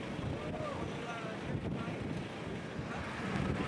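Strong wind buffets the microphone outdoors on a Norway trip, a continuous loud broadband roar with gusty swells and no clear talk.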